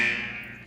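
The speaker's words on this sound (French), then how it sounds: "C'est quoi cette alarme?" A brief, steady electronic alarm tone sounds, loud and shrill, then briefly swells at the very end.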